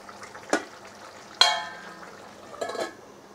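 A pan of cauliflower and potato curry takes a hot spice tempering, giving three sharp clatters and splashy bursts of sizzle spaced over a few seconds against a quiet bubbling background.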